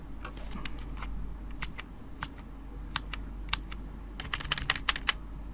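Computer keyboard keys are pressed during a SolidWorks modeling session, giving scattered sharp clicks that pick up into a quicker burst of taps toward the end, with no talking.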